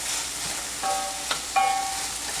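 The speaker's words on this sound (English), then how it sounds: "Andouille sausage is really, all you want to do is just get them nice and brown" Andouille sausage browns in a pan with a soft, steady sizzle, while a few light clinks and scrapes of turning the links sound close by, and no one speaks.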